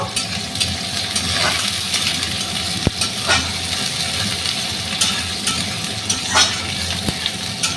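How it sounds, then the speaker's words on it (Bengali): Chopped onion with nigella seeds sizzling in hot oil and being stirred in a pan: a steady close crackle and hiss with occasional soft scraping strokes, no talking. "পেঁয়াজ কুচি দিয়ে একটু নাড়াচাড়া করবো"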